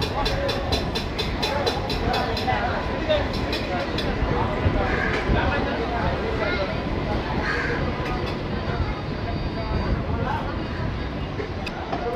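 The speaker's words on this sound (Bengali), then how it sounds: "নির্ধারিত সময় থেকে 1 মিনিট দেরিতে রামপুরহাট স্টেশন থেকে ট্রেন ছাড়লো।" A train pulls out of Rampurhat station a minute late, its steady low rumble and rolling clatter running throughout, with crows cawing repeatedly nearby and faint voices in the background.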